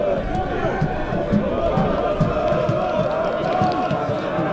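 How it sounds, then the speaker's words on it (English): A university rugby crowd at a BUCS Super Rugby match between Loughborough and Hartpury keeps up a steady, vocal roar in the background while a commentator talks over it. "Well, the crowd are getting going again now."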